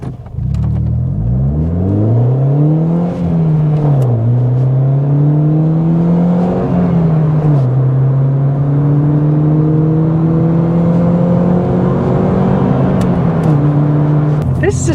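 A hot hatch fitted with a short shifter accelerates hard, its engine note climbing steadily through the revs with brief dips at each quick gear change, loud and close throughout.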